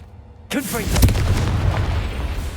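A Confringo fire spell detonates in Hogwarts Legacy: a sudden loud booming blast with a swooping fiery whoosh, followed by a sustained rumbling crackle that fades slowly.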